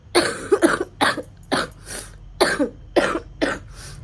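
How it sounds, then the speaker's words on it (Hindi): A person nearby coughs repeatedly, about eight harsh coughs in quick succession, loud and close. "खांसी खांसी बहुत ज़्यादा हो रहा है अभी"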